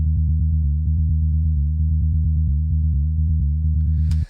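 A solo synth bass line from a remake plays alone, a clean, pure low tone repeating in a tight rhythmic pattern with small pitch shifts, ending with a brief click.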